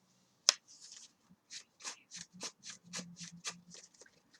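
A sharp snap followed by a rapid series of soft, rhythmic card flicks, close and quiet, like a deck of Yu-Gi-Oh cards being riffled and bridged.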